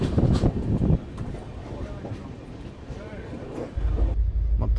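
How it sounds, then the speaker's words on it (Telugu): The Kondaveedu Express, an Indian Railways passenger train, rumbles as it moves off after a station halt, a low continuous rolling drone heard from inside the coach with some voices nearby. "7 minutes హాల్ట్ తర్వాత మన ట్రైన్ అయితే స్టార్ట్ అయింది"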